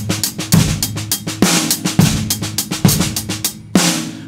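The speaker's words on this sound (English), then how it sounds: "And then I use the fourth beat of the bar with a hit on the snare." A close, loud drum kit groove: busy hi-hat and snare ghost notes over kick drum, with a strong snare backbeat landing on the fourth beat of each bar and no voices.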